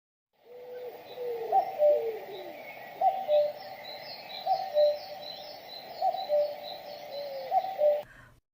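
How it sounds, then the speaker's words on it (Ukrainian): A cuckoo gives its two-note call five times at even intervals of about a second and a half, with fainter high bird twittering behind it throughout. "Зозуля."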